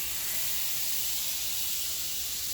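Coke butter sizzling in a hot pan with bacon, a steady, dense hiss that holds evenly from start to finish, close and loud, with no voices.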